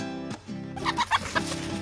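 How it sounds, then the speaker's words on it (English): A chicken clucking nearby, a few short throaty clucks in a quick uneven burst over a faint steady hum, with no one speaking. "Don't run the chicken over, mate."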